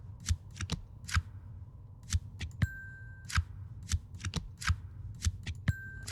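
Cards shuffled and dealt in the video game Occult Chronicles, a run of quick papery riffles and flicks in irregular bursts, close and clear, with occasional soft tonal chimes and no talking.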